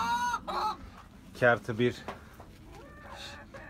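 Hens and a rooster in a backyard coop give a few short clucks and rising calls, moderately close, mixed in with someone talking over them.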